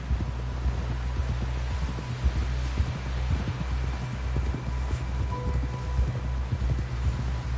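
Horse gallops in Red Dead Redemption 2 gameplay, rhythmic hoofbeats thudding steadily and close over a low rumbling background hum.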